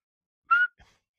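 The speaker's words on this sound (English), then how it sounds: "Gladiators, you will go on my second whistle." A single short, bright whistle blast signalling the start of a race, heard close and alone, followed by a brief faint sound.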